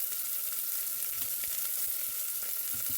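A medium onion fries in a pot for a soul food Sunday dinner, giving off a soft, steady sizzle with faint crackles and occasional light stirring, fairly quiet and with no voices.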